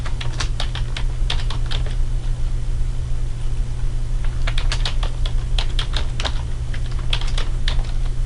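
Text is typed on a computer keyboard in irregular clusters of crisp, close key clicks over a steady low hum, with no voices.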